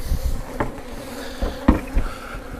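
Honeybees buzzing at a hive entrance during colony care, a steady close hum with a few louder buzzes as individual bees fly past the microphone.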